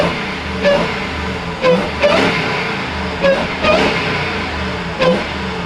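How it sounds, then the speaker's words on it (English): Twin-turbo Lamborghini Huracan engine revving loudly up close in a series of repeated throttle blips over a steady, rumbling idle. "You wanna hear the supercharger?"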